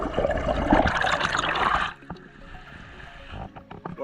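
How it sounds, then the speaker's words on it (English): Small burbling river flowing strongly beside a parked vehicle, a rushing watery wash for about two seconds, then quieter trickling and scattered drips nearby. "we're parked up beside this gorgeous little burbling river"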